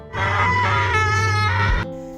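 A woman screams as loud as she can, a long sustained, piercing cry lasting nearly two seconds, loud and close, ending abruptly.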